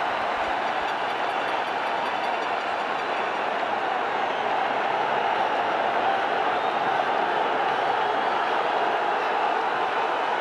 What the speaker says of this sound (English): Now that means, listen to this crowd for Afridi.